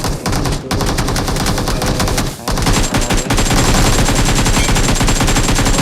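Rapid automatic gunfire in a Free Fire or PUBG match, dense bursts of loud shots that fill almost every second with only two brief pauses, no voice over the shooting.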